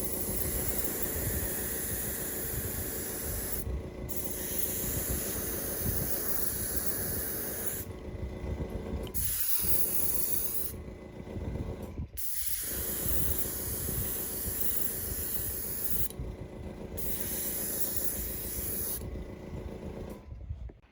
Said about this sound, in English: Now we're going to spray this purple here and kind of darken up this little back flank just a little bit.